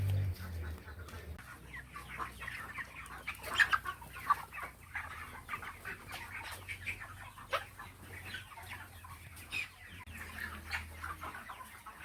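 Many chickens on a poultry farm clucking softly and continuously, with occasional sharper squawks rising above a low, quiet background hum.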